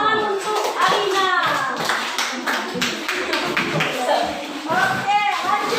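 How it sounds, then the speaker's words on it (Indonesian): Classroom pupils clap for a classmate, scattered hand claps mixed with children's and a teacher's voices and shuffling, the clapping uneven and close. "Tepuk tangan untuk Rizka"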